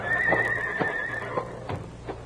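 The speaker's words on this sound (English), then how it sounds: "Those are the Clayton horses, all right." Horses neighing in a 1949 radio crime drama, a long loud whinny followed by snorts and clip-clop hoofbeats, close and clear with no voices.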